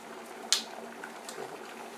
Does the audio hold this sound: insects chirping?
no